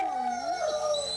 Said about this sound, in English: The howl of the wolf has been absent in this, the world's first national park